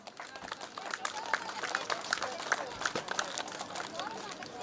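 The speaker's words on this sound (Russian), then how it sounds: "давайте бурными аплодисментами приветствовать" Applause from an outdoor audience at a children's Cossack-Buddhist festival at a datsan, steady scattered clapping heard from a moderate distance with background crowd chatter mixed in.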